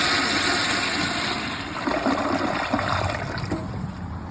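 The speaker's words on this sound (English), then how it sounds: "I'm gonna give it a flush." A Glacier Bay Pro Series toilet with a mid tank setup flushes with a loud, close rush of water that swirls and gurgles, then eases slightly toward the end.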